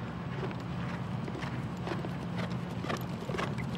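A Lusitano horse galloping in an equestrian arena, its hoofbeats thudding in a quick, regular three-beat rhythm at close range, with a low steady rumble beneath and no voices.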